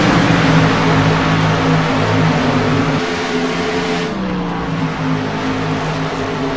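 Race cars running in line around a racetrack, a loud continuous engine roar with steady harmonic drone and shifting pitch as cars pass, slight dip partway through.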